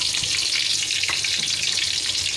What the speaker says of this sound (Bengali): তেল গরম হয়ে গেছে, দিয়ে দিচ্ছি পেঁয়াজ, দিয়ে দিচ্ছি মেথি